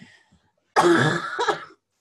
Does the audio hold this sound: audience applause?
no